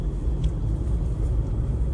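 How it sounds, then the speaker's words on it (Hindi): A car rolls slowly at around 20–30 km/h along the beach-side marine drive near Konark and Puri in Odisha, giving a steady low engine and road rumble from inside the cabin with no talk. "20-30 स्पीड में जा रहा है गाड़ी"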